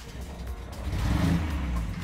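A classic Austin-Healey or MG engine, not a V8, cranks and catches, settling into a low, rumbling idle that rises slightly midway, close and steady throughout.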